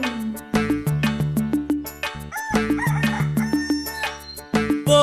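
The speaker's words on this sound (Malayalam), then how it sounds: "പൂങ്കോഴികൾ കൂകുന്നു." A cartoon rooster crows several times within a Malayalam nursery rhyme for babies, the bright calls sitting over a bouncy rhythmic musical backing, loud and close.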